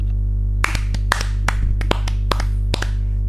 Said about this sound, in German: ich glaube, wir dürfen wieder klatschen